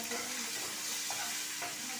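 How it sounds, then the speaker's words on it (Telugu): Dried red chillies and curry leaves frying in hot oil for an Andhra pulusu, a dense, even sizzle held close and constant throughout with no voices. "ఇప్పుడు ఇది వేగనిస్తాను. ఇందులో ఎండుమిరపకాయలు ఒక 2, కొంచెం కరివేపాకు"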